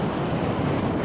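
Main waterfall at Paronella Park near Innisfail in far north Queensland, a constant loud rushing roar of falling water that fills the short stretch with no voices.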